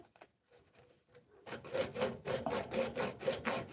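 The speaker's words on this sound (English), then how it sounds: "Still got to prep your pipe. Still got to remove those burrs." A plastic drain pipe is deburred by hand, quiet scrapes at first, then a rhythmic series of rasping strokes, about two per second, close and distinct.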